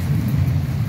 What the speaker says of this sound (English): just tons of rain